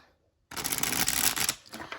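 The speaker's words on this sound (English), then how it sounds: "I have to push very hard on the cards in order to bridge shuffle them" Santa Muerte tarot cards are bridge-shuffled with firm pressure, giving one dense, loud riffling cascade that fades into a few softer settling flutters.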